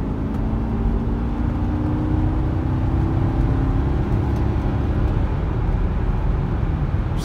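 Ford Expedition truck with a Triton engine accelerating hard in a 0-60 run, a steady heavy engine drone with rising pitch and road roar heard from inside the cab, loud and continuous without talk.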